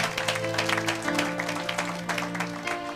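Church congregation applauding in praise, a dense steady patter of many hands over sustained organ or keyboard chords, continuous for the whole stretch.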